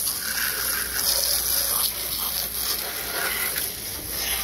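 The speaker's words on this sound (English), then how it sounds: "Spray it down with the water hose." A garden hose sprays water down the body of a Volvo 240 wagon, a steady hissing gush that continues evenly and fairly close throughout.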